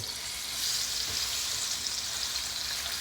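A salmon fillet is laid into hot oil in a pan, setting off a loud, steady hiss of frying that holds evenly throughout.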